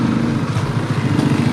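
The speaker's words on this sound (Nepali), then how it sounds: "हाम्रो बाइक नि उक्लिरहेको छैन" Motorcycle engine labouring up a steep road, a close, loud, steady rumbling drone with a rapid pulsing beat, heard alone with no talk.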